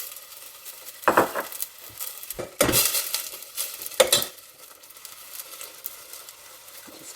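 Tomato frying in a pan for pacha rasam, soft sizzle under several sharp scraping strokes of a spoon stirring against the pot, close and intermittent, with no talk.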